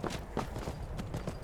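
Horse hooves in Skyrim clip-clop in a quick, uneven series of close, soft thuds for a moment, with no voices over them.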